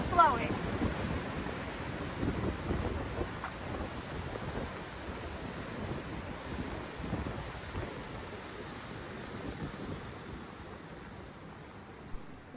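Lower Yosemite Falls in spring, heavy water pouring down steadily as a broad, constant roar of rushing spray and wind, with no talk.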